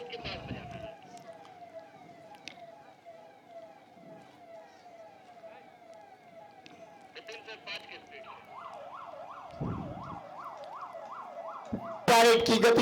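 An ambulance siren at a Republic Day parade in India wails from a distance with a steady two-tone cry, switching to a faster warble before a loud burst at the end.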